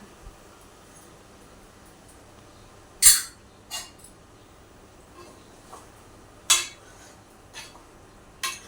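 A spoon scrapes and taps lightly against a pot while fish curry with salt and chili is gently mixed, giving a few sharp clinks spread over a quiet background.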